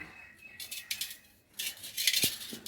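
Blended carrot juice being strained in a kitchen, with light metallic scraping and clinking of a strainer and utensil in short bursts, fairly quiet and close, plus a brief soft knock near the end.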